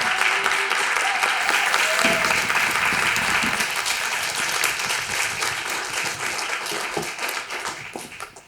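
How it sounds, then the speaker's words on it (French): An audience gives sustained, hearty applause after a talk by two artisan-entrepreneurs, the dense clapping holding steady before thinning out toward the end. "C'était de beaux applaudissements nourris et bien mérités."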